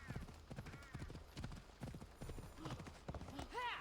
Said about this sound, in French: C'était la flèche du bas pour appeler le cheval.